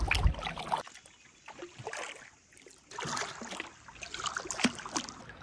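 A canoe paddled across calm water on a camping trip, with rhythmic paddle strokes, splashes and trickling drips repeating every couple of seconds, close by and without speech.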